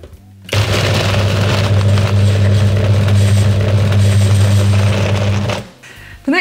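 An electric blender grinds 250 grams of dates in a loud, steady motorized whir lasting about five seconds, then winds down and stops.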